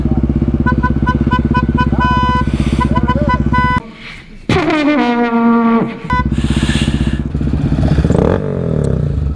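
Yamaha Raptor ATV and other off-road engines idling and revving loudly at Little Sahara, a steady close drone broken by a short lull and a rising rev, with clattering and a brief voice.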